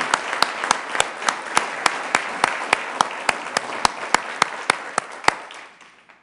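A council meeting audience claps in a round of applause, a loud, steady wash of many hands with sharp pops on top, fading out toward the end.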